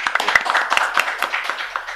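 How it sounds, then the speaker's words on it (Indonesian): A short burst of clapping hands, a small group applauding steadily with dense, irregular claps for about two seconds. "Tepuk tangan buat kalian dulu ya"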